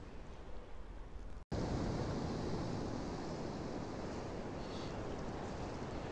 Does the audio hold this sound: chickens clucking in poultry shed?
no